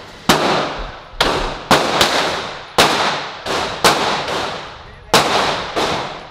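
Seven sharp, loud gunshots from a ported Glock 17 pistol fired at a shooting range, spaced irregularly over several seconds, each crack followed by a brief decaying ring.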